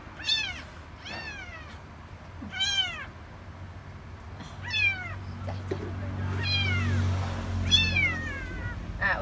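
A cat meows repeatedly, several clear rising-falling calls spaced a second or two apart, close and distinct over faint room noise.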